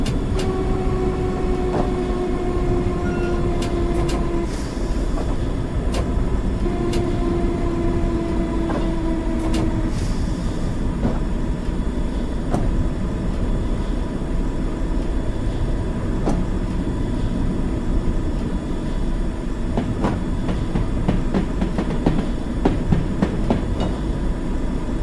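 A 1990 East London Line train runs steadily through a tunnel as it slows for a tight curve under a 20 mph restriction. A continuous loud rumble carries a squealing tone that falls, and sharp clicks come from the rails at intervals.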